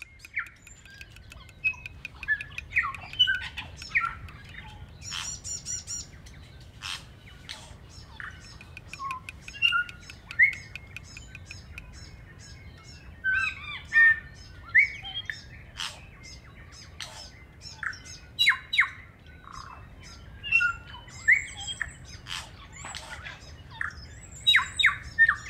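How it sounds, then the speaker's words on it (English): Loud, dense birdsong fills the bush along Te Ara Whakatipu: close squawks, chirps and whistled phrases overlap continuously over a low steady rumble, with no voices. "Is it just me or is this the loudest bird song we've heard?"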